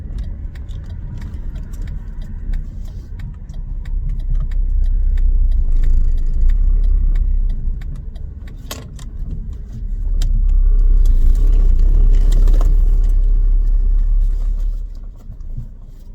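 A car rumbles close by as it slows and pulls over to the roadside, with low engine and road noise swelling and easing. Keys jangle briefly near the end.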